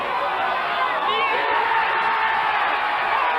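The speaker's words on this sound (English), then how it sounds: "The crowd's on their feet!" A snooker crowd roars and cheers as spectators rise to their feet, a dense, loud, sustained wall of applause and shouting that fills the whole stretch.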